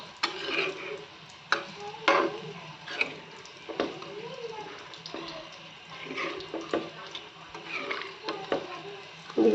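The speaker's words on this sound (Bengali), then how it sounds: "তো এখন তরকারিটা কষানো হয়ে গেছে আমি পানি দিয়ে দিচ্ছি তরকারি ঝোলটা দিয়ে দিচ্ছি" Fish curry in a pot after water is poured in, quiet bubbling and sloshing under repeated spoon stirring and clinks against the pot, with scattered sharp knocks.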